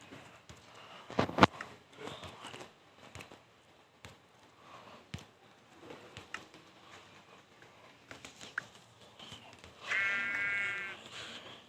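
A short electronic-sounding sheep bleat from a video game near the end, following scattered clicks and soft thumps over a quiet background.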